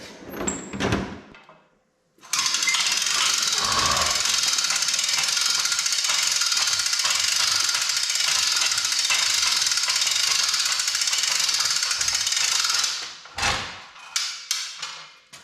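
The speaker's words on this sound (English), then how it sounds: "So now we'll fire it up and drive it up onto the lift." A John Deere 325 riding mower engine fires up after a brief cranking and runs steady and loud nearby for about ten seconds, with a harsh broadband roar, then cuts off, followed by a few clunks.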